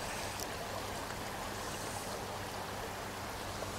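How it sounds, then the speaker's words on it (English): River water bubbles past under shady trees during summer, a steady broadband rushing and trickling wash that holds evenly throughout, close and alone with no voices. "the sound of the water bubbling past."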